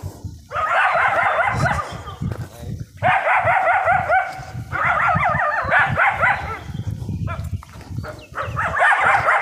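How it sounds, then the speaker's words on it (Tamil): Several dogs guarding a remote forest home where elephants roam bark in repeated bursts, close and loud, while someone talks over them. "பாதுகாப்புக்கு நிறைய நாய்கள் இருக்கு"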